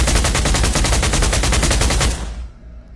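A modern gun in the game Pavlov firing a rapid automatic burst of about twenty shots in a steady rhythm for two seconds, then a ringing tail that fades out. The shots are loud and close, and no one speaks.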